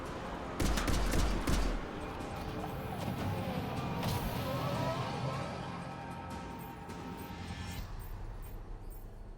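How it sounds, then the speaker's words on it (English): A loud blast from a pistol shotgun slam-firing in the video game Mass Effect 3, a sharp crack of shots near the start fading into a sustained roaring, chaotic combat din. "did you just fucking slam fire a pistol shotgun?"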